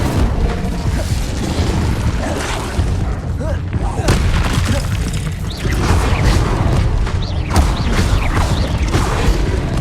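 Fire spells cast again and again in the Hogwarts Legacy video game on hard mode. They land as dense, continuous booms and crashes of combat effects at full loudness, with game voices mixed in throughout.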